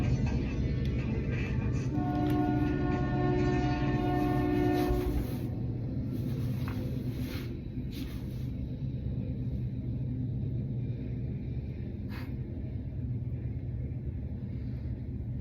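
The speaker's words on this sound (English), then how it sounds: "Thomas the Tank Engine rolling by" A train rumbles past outdoors, a heavy continuous roll of wheels and cars with a sustained horn tone early on, loud and steady throughout.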